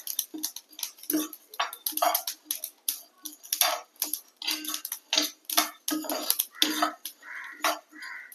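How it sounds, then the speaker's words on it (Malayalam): A spatula scrapes and stirs dry moringa leaf powder ingredients as they roast in a pan, giving a steady run of close, crisp scratching clicks in an irregular rhythm with no talking. "കൈവിടാണ്ട് ഇളക്കിക്കൊണ്ടിരിക്കണം കേട്ടോ, അല്ലെങ്കിൽ ഓരോരോ ഭാഗം കരിഞ്ഞു പോവും."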